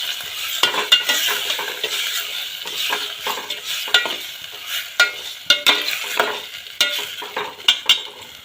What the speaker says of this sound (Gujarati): ફૂલ ગેસ રાખીને તો જલ્દી ટમેટા કોસા થઈ જાય